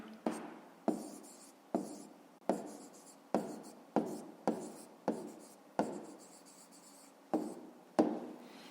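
A pen writes on paper in a quiet room: about a dozen short, scratchy strokes, close and distinct, come in an irregular rhythm with brief gaps between them.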